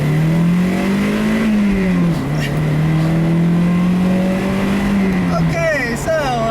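A 2000 Toyota MR2 Spyder roadster's engine pulls hard along a back road, its steady drone rising and falling in pitch with a shift midway, loud and close from inside the cabin; a voice speaks briefly near the end.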